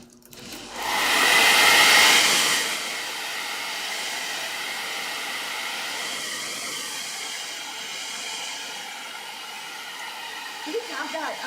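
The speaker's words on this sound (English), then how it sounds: "I'm going to go ahead and dry it with the blow dryer." A handheld blow dryer blasts close and loud for a couple of seconds, then settles into a steady, softer whoosh while drying paint on a rusty saw blade, running alone without talk.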